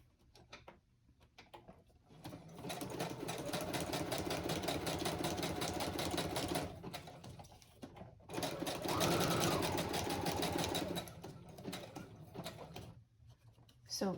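Sewing machine stitching a zigzag pattern on a green journal cover, rapid rhythmic needle clatter in several runs with short pauses between bursts, fairly close and clear.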